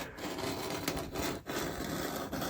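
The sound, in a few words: cutting a model railroad turnout with a bladed knife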